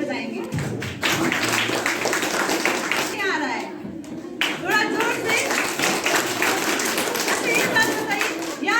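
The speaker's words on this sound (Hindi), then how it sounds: "आइए हम सब हमारे बच्चे लोगों के लिए और आप सभी के लिए हम सब मिलकर ताली बजाएंगे।" A group at a Christmas celebration with children claps in dense, lively bursts, pausing briefly before starting again, while voices talk and children call out underneath.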